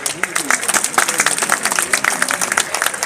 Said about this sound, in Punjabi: ਇਸ ਇਕੱਠ ਵਾਸਤੇ ਜ਼ੋਰਦਾਰ ਤਾੜੀਆਂ ਹੋ ਜਾਣ